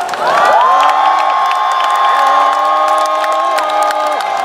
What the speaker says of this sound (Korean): 우리 각자의 위치 확인하기 위해 함성 한번 질러볼까요?